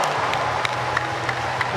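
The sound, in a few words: applause and clapping in stadium for long jump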